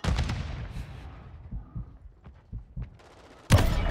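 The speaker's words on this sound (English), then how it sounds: "Grenade, get back!" Grenade blast and gunfire in the video game Warzone: a heavy burst opens, scattered sharp shots and thuds follow, then another loud explosion near the end.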